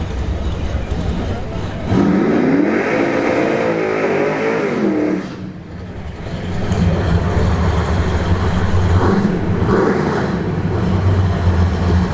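A 1970 Chevelle drag car's engine roars loudly at a drag strip, dips briefly, then rumbles again, with people talking throughout.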